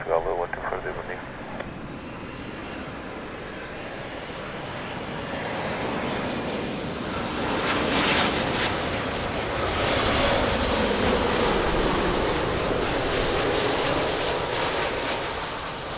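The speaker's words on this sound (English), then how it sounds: "Beautiful Dreamliner" A Boeing 787-10 Dreamliner lands at Lisbon Airport, its broad jet roar swelling steadily from a distance to a loud sustained rush, with a faint radio voice heard at the start.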